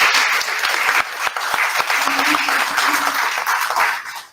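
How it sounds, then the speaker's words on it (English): An audience at a city council candidate forum claps for the volunteers, a loud, full round of applause that holds steady for several seconds before tapering off at the end. "How about a quick round of applause for our volunteers?"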